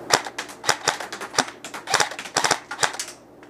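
A KWA SR10 2GX airsoft rifle fires rapid clusters of two to three sharp, snappy shots, a close series of loud clicking pops repeated over a few seconds.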